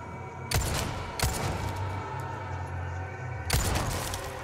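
Three sharp gunshots in Resident Evil 4 Remake ring out at spaced intervals over a steady low rumble, each a loud crack followed by a brief tail.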